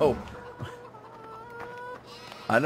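Chickens cluck softly in Farming Simulator 2015 as a flock of about 100 birds pecks around a sand pit. Faint, scattered clucks sit under a steady low mechanical hum, with brief louder bursts at the start and end.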